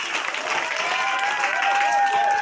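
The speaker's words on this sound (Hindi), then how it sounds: "तालियां जोर से एक बार।" Schoolchildren clap in a classroom at an Urdu school after a Chandrayaan 3 project presentation: dense, continuous applause from many small hands, close and fairly loud, with a few voices faintly underneath.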